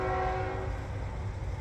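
Union Pacific intermodal freight train passing through town on the Canadian National line, its horn sounding as a faint, steady tone over a low rumble, heard at a distance.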